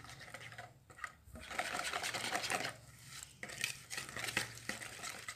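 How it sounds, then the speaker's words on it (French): A wire whisk beats eggs, soft sugar, coconut and vegetable oil together in a bowl, giving a steady scraping swish with a few short pauses, close and fairly quiet. "Et avec le fouet, je mélange."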